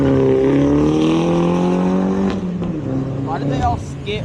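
Car engines at a car meet rev high and then drop as they shift into second gear, a loud, close, steady roar that falls in pitch partway through, followed by rougher engine and tire noise.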